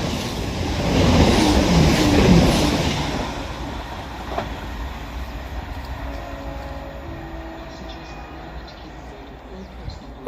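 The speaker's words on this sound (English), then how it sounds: "Now passing through is another Chiltern Railways 168." A Chiltern Railways class 168 diesel unit passes through Kings Sutton station on the Chiltern Main Line, a broad rumble that swells over the first few seconds and then fades into the distance.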